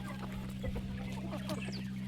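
Rooster clucking a few soft short times close by, with a steady low hum running underneath.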